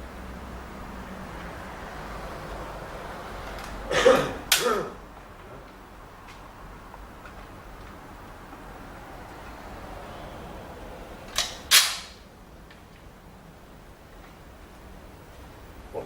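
Two sharp rifle shots at a sport shooting range, one around a third of the way in and another near two thirds, each with a short echoing tail over quiet outdoor background hiss.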